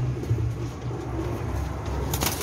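Teddy and Golden breed pigeons coo in low, rolling calls close by, repeated over soft background rustle with no talk.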